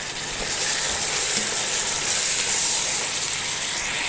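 Three chopped tomatoes hit a hot pan for chicken machboos, giving a steady close sizzle and crackle of frying with a faint hiss of steam throughout.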